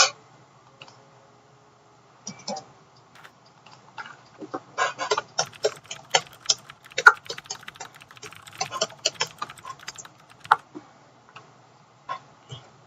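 A computer keyboard clatters up close as keys such as backspace and escape are pressed, starting with a few isolated taps that build into a busy run of quick clicks before thinning out again.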